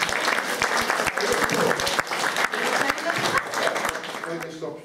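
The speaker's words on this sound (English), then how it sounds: "Paul, give him a round of applause." Applause from a gathered audience at a Christmas event, a dense burst of clapping with sharp individual claps standing out, continuing for several seconds and tapering as a voice begins.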